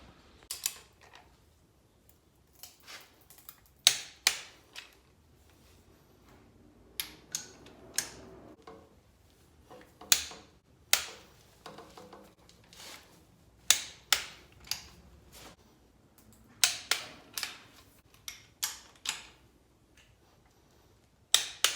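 A torque wrench tightens the cylinder head bolts on an LS engine being swapped into an FRS, giving sharp metallic clicks and ratcheting ticks in irregular bursts, close and crisp against a quiet workshop background.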